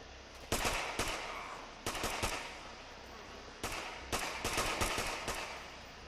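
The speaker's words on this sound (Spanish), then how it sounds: "Vamos a ver de dónde provienen esos disparos" Bursts of gunfire in the zombie video game Contagion, several rapid automatic volleys separated by brief pauses, loud and close, with background game ambience between them.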